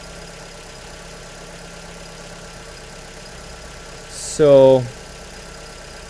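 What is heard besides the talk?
car engine idling while warming up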